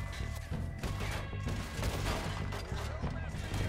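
Gunfire in the video game Red Dead Redemption 2, a dense, steady barrage of shots over a constant layer of game sound, loud and continuous throughout.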